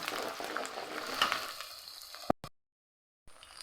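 Ginger-garlic paste frying in hot oil for a chicken gravy, giving a steady close sizzle that fades out partway through before a short return.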